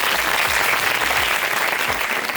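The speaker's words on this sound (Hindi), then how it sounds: "तालियां बजाओ पहले" Classroom of students clapping together in sustained, dense applause that stays loud and steady throughout, with no talking.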